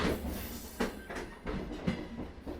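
Train rolling through the night for a Bengali horror animation, with a steady rumble and periodic clickety-clack wheel beats repeating about every second, moderately loud with no talk.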